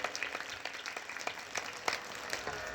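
An audience applauds performers at a Shiv Mahapuran religious storytelling event, and the clapping comes as steady, moderately distant applause from a crowd.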